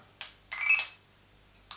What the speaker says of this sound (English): That noise was me taking the picture